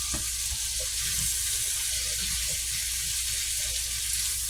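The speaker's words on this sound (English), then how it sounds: "We're just, sauteing them and getting it softened up a little bit." Vegetables for a creamy cheesy bacon potato soup sauté in a pot, giving a steady, close, continuous sizzle with faint stirring clicks and no talk.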